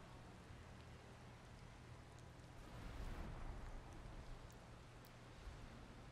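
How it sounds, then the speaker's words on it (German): Rain falls in the video game Valheim, a faint, steady hiss of rainfall with a low rumble swelling briefly in the middle. "Und genial, dass wir auftauchen und es regnet."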